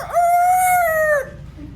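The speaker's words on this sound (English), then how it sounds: "I intend to take our beloved Rooster with me." A rooster crows once, clear and close, one sustained call with a sharp rise at the start and a fall at the end.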